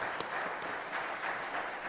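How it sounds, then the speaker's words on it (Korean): Applause in a church during a dedication service welcomes guests, a quiet, distant, steady patter of many hands clapping. "잠깐 일어나셔서 인사하시고 박수로 우리 환영하시겠습니다"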